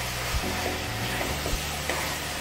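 A spoon stirs bitter gourd thokku in a frying pan, soft scraping strokes over a steady, close sizzle with no talk.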